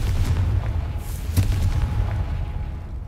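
A Confringo explosion spell in Hogwarts Legacy, a video game, lands as a deep, rumbling boom. A sharper crack hits midway and the blast fades out over a few seconds.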